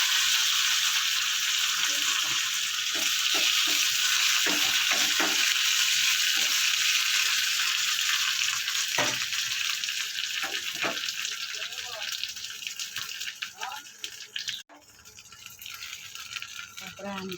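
Mustard seeds and cumin spluttering in hot oil for dahi kadi, a steady crackling sizzle with scattered sharp pops throughout, under a near-constant fry hiss.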